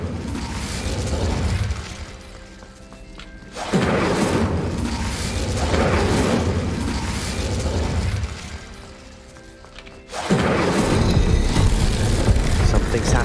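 A fire spell cast in Hogwarts Legacy bursts out as sudden whooshing flares that repeat, each swelling loud and then fading. Talk is heard between them.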